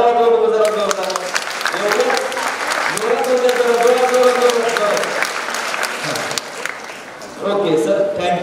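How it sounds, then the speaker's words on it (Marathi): An audience claps loudly and steadily at a Marathi talk on home remedies, the dense applause running throughout with a speaking voice carrying over it. "मग टाळ्या वाजवा बघू जरा जोरदार."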